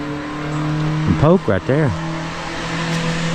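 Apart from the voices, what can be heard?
passing car with loud exhaust on a four-lane road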